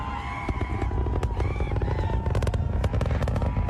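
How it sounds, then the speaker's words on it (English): Fireworks set off at a rocket launch crackle and pop in rapid irregular bursts over a dense, loud rumbling roar, with distant crowd noise beneath. "And it sets off its own fireworks."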